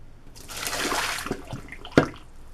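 Hot water is poured into a slow-draining bathroom sink, a soft gushing splash lasting about a second, then faint trickles and a sharp clunk near the end.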